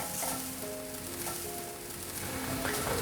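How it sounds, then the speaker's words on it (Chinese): Carrots and coriander stir-fried in a hot pan, a steady loud sizzle with light scraping and tossing throughout, no voices. "快速翻炒，红萝卜炒变色，现在放入香菜。"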